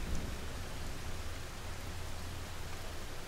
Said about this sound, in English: Listen to the sound of the rain and smell the greenery all around you.